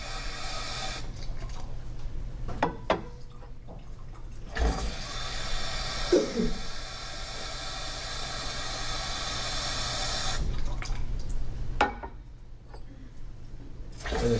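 Tap water running steadily into glass beakers for a chemistry demonstration with lithium, sodium and potassium, a broad hissing pour lasting several seconds, broken by brief clinks and pauses between fillings.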